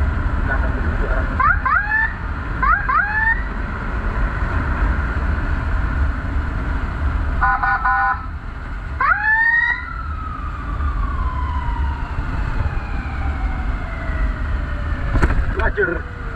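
Ambulance sirens from a rescue convoy heading toward a mountain village after a landslide, sounding in several short rising-and-falling wails over steady road and engine rumble, with one longer falling tone near the middle.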